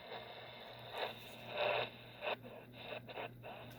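A Retekess TR627 emergency radio on the AM band gives static crackle and interference bursts while being tuned, with several short scratchy pulses near the end, fairly faint and close.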